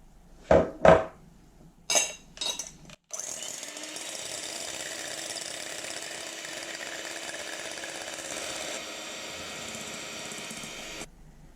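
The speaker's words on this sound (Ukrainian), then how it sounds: "Беру 3 яйця середньої величини та 150 г цукру і поступово буду вводити цукор та збивати" Electric mixer beating three medium eggs with 150 g of sugar. A few sharp clatters come first, then a steady, loud, continuous whirring hum runs for about eight seconds before stopping abruptly.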